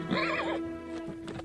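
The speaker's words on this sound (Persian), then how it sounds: "شیهه اسب" A horse neighs loudly and close by in a shrill, wavering whinny of about half a second, followed by softer snorts and rustling, with no voices, set among Qashqai nomads near Firuzabad in Fars.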